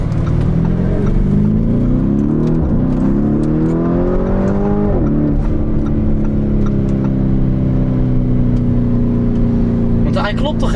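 A car engine accelerating during a track day at an Italian circuit, a loud, close drone whose pitch climbs, dips briefly, then climbs again before settling into a steady high whine.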